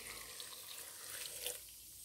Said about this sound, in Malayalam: ഇനി നമുക്ക് ആവശ്യത്തിന് വെള്ളം ഒഴിക്കാം.